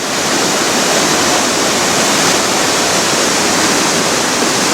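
A loud, steady roar of water pouring through the needle dam on the Reuss river at the outlet of Lake Lucerne, a constant dense rush with no talking.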